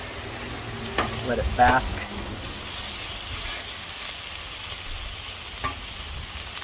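Butter sizzling on a flat griddle top while finishing lemon garlic chicken, a steady close frying hiss with occasional scraping stirs and a brief spoken phrase.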